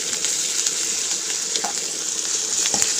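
Ginger garlic paste frying in a pan for pepper chicken: a steady, close hiss and sizzle with small crackles and a few light scraping stir sounds, no voices.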